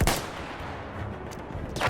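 C96 carbine shots in a video game: a sharp loud report at the start, a decaying tail, fainter pops in the middle, then another strong shot at the end.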